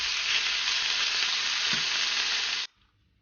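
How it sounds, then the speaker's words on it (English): Meat browning in a hot pan with a dab of oil, for bibimbap: a loud, steady sizzle that holds for about two and a half seconds and then cuts off abruptly, leaving near silence. "start adding our meat. And all you want to do is just brown the meat."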